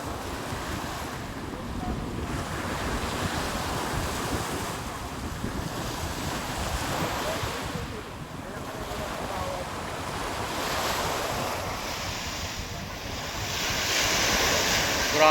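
Ocean waves roll in on the Manila Bay Dolomite Beach shore under strong wind, a constant loud surf wash with gusty wind buffeting the microphone, swelling louder near the end.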